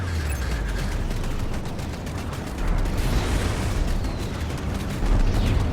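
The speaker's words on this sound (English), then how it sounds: "I'm going to launch a couple missiles just to look at it." Missile launches and explosive blasts in the space combat game Strike Suit Zero, a dense, loud, continuous roar of booms and firing with surges near the end, no talking.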